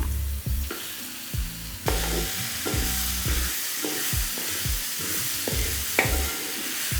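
Washed chicken hitting a hot pan with crushed ginger and garlic, frying and sizzling steadily while being stirred, with repeated scraping strokes across the whole stretch. No one speaks.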